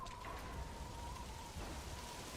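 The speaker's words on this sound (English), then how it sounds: "Now it's started to rain." Steady rain falls in the video game Metal Gear Solid 5: The Phantom Pain, a soft continuous hiss of drops with a faint low rumble underneath and no voices.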